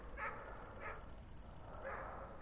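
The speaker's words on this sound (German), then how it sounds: "Die Hunde bellen die auch an." Dogs barking in the horror game Project13 Nightwatch: a few separate, moderately loud yips spaced about a second apart, over a steady high electronic whine and low background hum.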